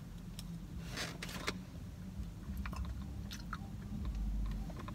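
Someone eats Wingstop french fries, with soft chewing and bites at close range, a few crisp crunches standing out against a quiet room hum.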